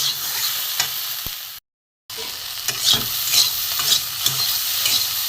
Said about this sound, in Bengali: ঢেঁড়স আর আলুটা ভালো করে ভেজে নিয়েছি